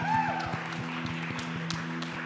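A church congregation claps along in a steady rhythm of evenly spaced beats under a sustained organ or keyboard tone, with a voice briefly audible at the start.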